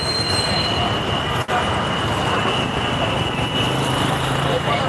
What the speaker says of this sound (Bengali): রেলগেট ইউটার্নের মধ্যে যেখানে ট্রেন চলাচল এবং মাত্র সিগন্যাল পড়েছে